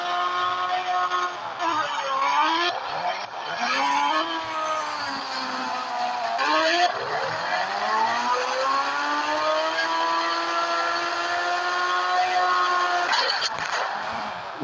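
Engines in the mobile driving game Indian Bike Driving 3D rev and surge loudly and steadily, pitch sweeping up and down as the motorbike and cars speed along, with occasional tire squeal and no pauses.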